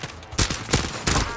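Three quick, loud bursts of gunfire in a Warzone battle royale match, close and punchy, each burst a short rattle of several rounds, spaced about a third of a second apart.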